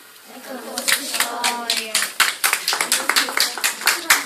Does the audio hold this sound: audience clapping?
yes